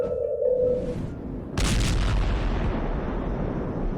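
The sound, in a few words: Seneca guns, earth-shaking booming sounds in North Carolina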